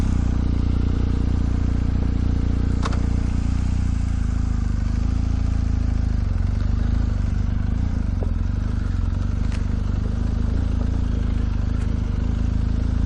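A 2019 BMW R 1250 GS motorcycle being ridden, its steady engine drone loud and close throughout with a constant rumble and wind noise, no talk.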